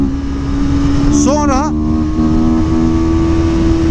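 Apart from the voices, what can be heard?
CLX 700 Sport three-cylinder motorcycle engine revving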